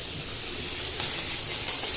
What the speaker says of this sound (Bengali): আমি করলাগুলো ভেজে নিচ্ছি।